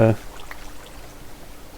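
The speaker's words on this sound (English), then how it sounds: "Let's block off this water here." Water flows in Minecraft with a soft, steady pour that continues after a brief louder sound at the start.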